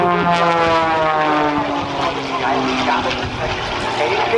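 A propeller-driven aerobatic plane tumbles through its routine at the 2012 NAS Oceana airshow, its engine a loud, steady buzzing drone with shifting pitch that holds throughout.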